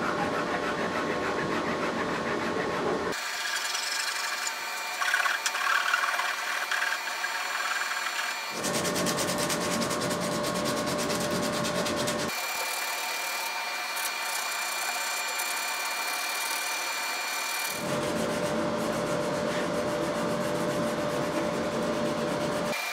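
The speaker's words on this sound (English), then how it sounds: "and with some sandpaper. And we want to feel any irregularities and sand them down" Sandpaper rubs steadily over a wooden guitar neck being carved, a continuous hissing scrape that shifts in tone across several passes for over twenty seconds, close up with no speech.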